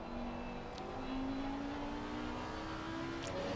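Porsche GT race car in a sim racing league round at Barcelona, its engine a steady, sustained drone with a slowly rising pitch throughout, continuous and fairly faint, no talk.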